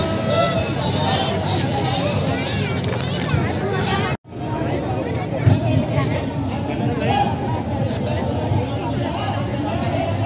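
A crowd packs a Konkan food festival, a Malvani fair in Bhayander, as people queue for food, making a steady close babble of many voices with someone talking over it.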